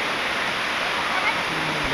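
Steady broadband rush of river water flowing over rocks in Masinloc, Zambales, continuous and fairly loud throughout with no pauses.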